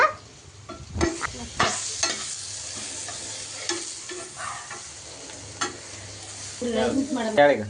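Turmeric powder and coriander leaves frying in a pan for homemade mango rice, with a quiet sizzle broken by intermittent spoon scrapes and stirring knocks, and faint voices near the end.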